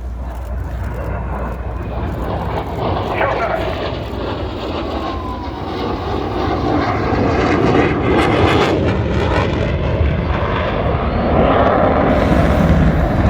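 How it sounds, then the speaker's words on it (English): An F/A-18 Super Hornet jet makes an inverted, low-speed whisper pass at an airshow in Dayton, its broad engine roar steady and close, swelling louder through the second half. "Remember, this is an aircraft that has the ability to go twice the speed of sound if it wants to, but right now, it's going to be a good neighbor."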